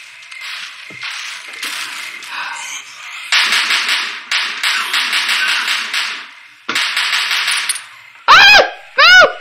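Bursts of rapid gunfire from the Zombie Panic video game, loud and close, coming in several separate volleys of varying length, with sharp sweeping effects and brief shouts near the end.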